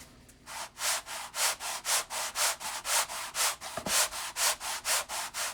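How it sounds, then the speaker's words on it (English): Coarse sandpaper on an edge sanding jig works the edge of an acoustic guitar body in steady back-and-forth strokes, about fourteen even rasping passes close up with no talking. "I'm going to use the one with the coarser sandpaper, get it close"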